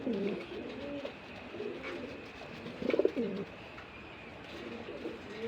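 Pigeons at a breeding farm give soft, low cooing calls that repeat through the clip over a faint background hum, with a slightly louder burst of cooing near the middle.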